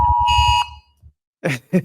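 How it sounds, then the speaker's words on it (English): Tornado alarm sounding as a loud steady electronic tone lasting under a second, followed by silence and a couple of short thumps or voice bursts. "That sounded like a tornado alarm"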